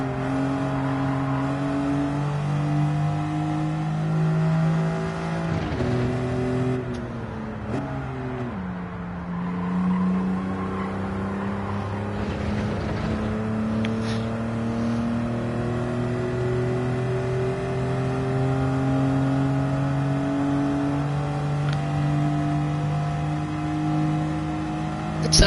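A Unimog engine in the racing game Gran Turismo 7 drones loud and close with steady harmonics, its revs climbing and falling through a few brief shifts.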